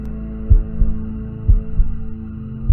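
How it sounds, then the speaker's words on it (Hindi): A deep, booming heartbeat sound effect from a Hindi horror story pulses in a slow double-thump rhythm over a droning low hum, loud and close, with no speech. "दिल जोर से धड़कने लगा"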